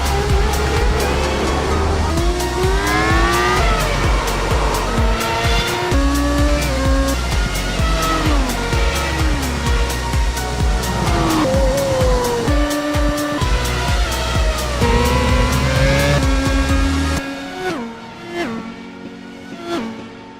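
Race cars in the iRacing sim thunder into turn 1 at Talladega Superspeedway, a dense, loud pack of engine drone with shifting pitches and tire noise held throughout, then dropping away abruptly near the end.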